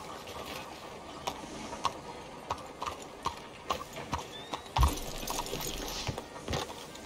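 Horse hooves clip-clop steadily in the Red Dead Redemption 2 video game, a string of sharp, evenly spaced footfalls close by over a faint ambient bed, with a heavier thump near the middle.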